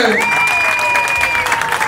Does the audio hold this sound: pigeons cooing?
no